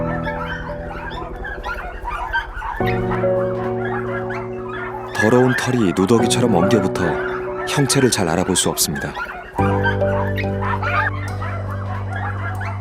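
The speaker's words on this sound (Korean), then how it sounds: "어디선가 강아지 소리가 들리는 비닐하우스." Puppies in a greenhouse puppy mill whimper and whine in high, wavering cries, with a few yips, close by. A narrator talks over them throughout.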